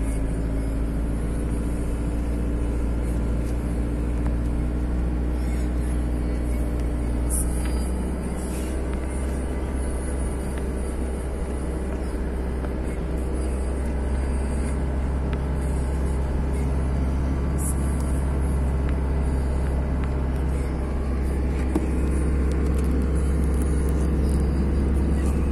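A car cruising in second gear on the way to Papuma Beach, giving a steady, close engine drone and road rumble that holds loud and unbroken throughout, with no talking.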